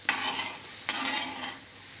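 Jaggery syrup boils and is stirred in a pan for sesame candy balls, a close bubbling hiss with a couple of sharp scraping strokes, alone without any talking.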